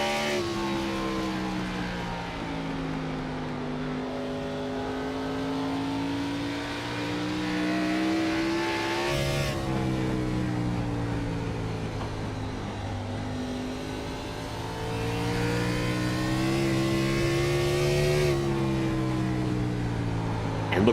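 A race car engine in a sim racing game, heard onboard the number 18 machine during practice laps, drones loud and steady, its pitch climbing through the revs and dropping sharply at gear changes around nine and eighteen seconds.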